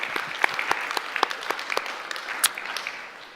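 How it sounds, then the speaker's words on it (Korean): Church audience applauding volunteers, a scattered crowd clapping with sharp individual claps standing out, moderately loud and tapering off at the end. "우리 수고하신 분들 위해서 한번 박수 드릴까요?"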